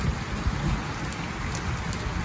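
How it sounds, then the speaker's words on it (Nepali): Heavy rain pours down on a hilltop near Jamacho Gumba in Nagarjun, a dense, loud, unbroken roar of drops close by, with a low rumbling undertone. "एकदम पानी चाहिँ परिरहेछ ल"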